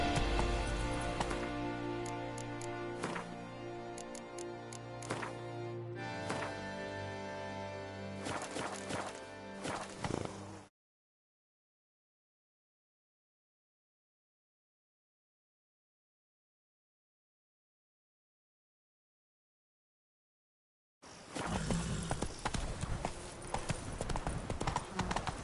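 Horse hooves clip-clop at a steady galloping rhythm in The Witcher 3: Blood and Wine, loud and close over game music, then cut to silence before hoofbeats resume with a rougher, busier tone.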